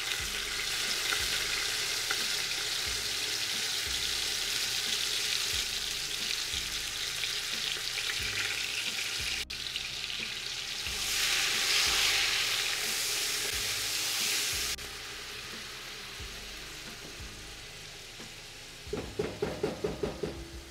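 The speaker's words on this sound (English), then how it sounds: "At this point, we're going to fry these thinly sliced onions." Thinly sliced onions fry in hot oil with a loud, steady, close sizzle that surges in the middle and then eases off, ending with a few rhythmic scraping stirs and no talk.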